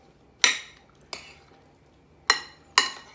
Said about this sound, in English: So now basically we take all this, we stir it all together.